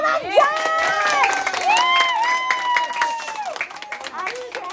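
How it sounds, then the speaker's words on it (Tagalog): A crowd at an 18th birthday celebration in Urdaneta, Pangasinan claps and cheers loudly and close by, with children and adults shouting excitedly over steady applause throughout. "Ayan, palakpak naman dyan!"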